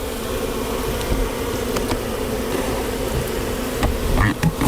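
Steady, dense buzzing of many honeybees close by at a hive, a continuous low drone with a few brief louder flickers near the end.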